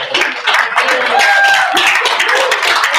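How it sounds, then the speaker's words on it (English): Clapping from a small audience at a business panel session on commercial leasing, a steady patter lasting a few seconds, fairly close, with some voices mixed in. "Y'all give Camille another round of applause."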